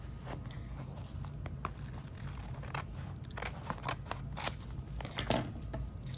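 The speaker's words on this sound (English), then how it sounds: "I'm going to flip it over, press, and then cut away the excess." Scissors snip through paper while trimming the excess from a surreal album-art collage, a series of short crisp cuts and crunches at close range with no talking.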